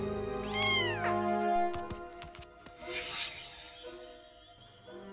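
A cartoon cat meows loudly near the start with a rising, bending cry, followed by sparse clicks and soft background sounds, with no talking.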